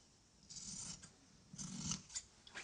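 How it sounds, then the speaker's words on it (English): Scissors snip through fabric, trimming a sewn seam down to a quarter inch on a tabletop sewing project, in three or four close, crisp cutting bursts with no talk. "I'm going to take my scissors now, and I'm going to trim back my seam to about 1/4 of an inch."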